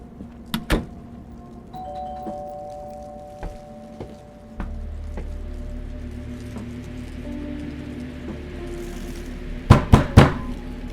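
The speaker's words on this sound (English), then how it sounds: "Someone's ringing the doorbell." Doorbell chimes inside the horror video game Fears to Fathom, a few sharp tonal rings near the start and again near the end over a low steady hum and faint ambient patter.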